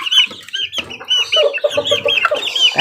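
A Talisay rooster calls close by, with rapid clucking and crowing-like squawks in a dense, continuous sequence that fills the whole stretch, along with some other farm-bird noise.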